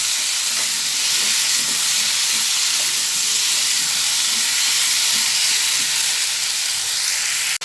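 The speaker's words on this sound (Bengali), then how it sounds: "আবার ভালোভাবে নাড়াচাড়া করে নিচ্ছি" Elephant foot yam and potato curry sizzles steadily in a pan, a loud continuous frying hiss with soft scraping stirs now and then, no voices.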